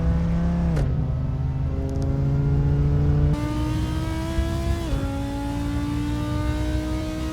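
An Audi R8 GT4 racing through Assetto Corsa at full throttle, its engine note climbing steadily and then dropping briefly at each gear change, loud and continuous without any talk.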